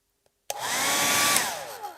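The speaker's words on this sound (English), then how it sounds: "So you can use your hair dryer" A hair dryer on its low setting blowing over damp watercolor paint on paper switches on after a brief click and runs as a steady, close, loud whoosh with a faint whine, alone without talk.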